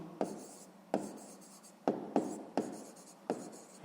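Pen or pencil writing on paper during a sixth-grade maths exercise, with six distinct scratchy strokes at an irregular rhythm, close and fairly quiet, with no talk.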